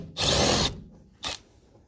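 A socket wrench ratchets to loosen a 10mm bolt inside a Mitsubishi Lancer during headliner removal, one close half-second burst of rapid ratcheting, then a shorter second burst after a brief pause.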